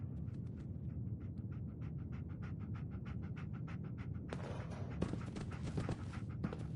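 Companion dog in the video game Fallout 4 panting steadily in quick, rhythmic breaths close by, under a constant low background hum, with a burst of brighter noise joining in the last couple of seconds.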